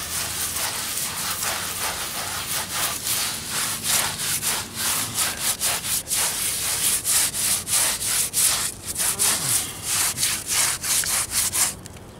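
A sponge rubs patching mortar into a chimney in steady, repeated scrubbing strokes, close and fairly loud, with a gritty rasp that continues without pause for the whole stretch and no talking.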